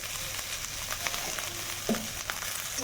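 Potatoes with salt, turmeric, tomato and chilli frying in a pan, a faint steady sizzle broken by a few light spatula scrapes and a small clink, quiet and without voices.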